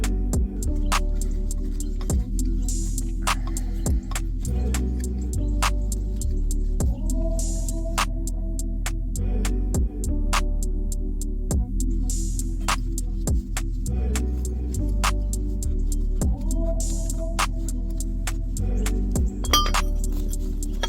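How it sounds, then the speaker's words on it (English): Repeated ratcheting clicks and light metallic clinks over a low steady hum as pulley bolts are worked off a 2014 GMC Acadia water pump, close and rhythmic in short bursts. "we can go ahead and take these 4 bolts out and then get this pulley off of here."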